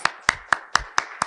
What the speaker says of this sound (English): Please join me in welcoming Charlotte du Plessis with a big round of applause.